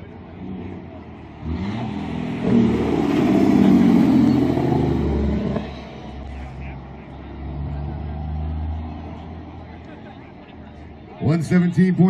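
A truck's engine brake roars in a loud, drawn-out burst during a dynamic engine braking contest, then fades into a steady distant rumble, with a crowd and an announcer's voice audible underneath.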